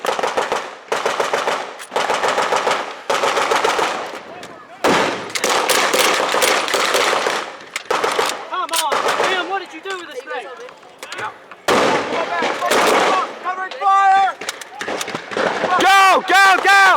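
An MP40 submachine gun and other blank-firing weapons rattle in rapid bursts during a WWII reenactment battle clearing a town in Linden, Tennessee, loud close volleys broken by short gaps with shouted voices in between.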